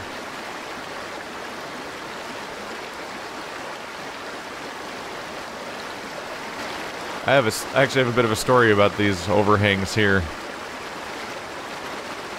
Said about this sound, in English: the water is rushing by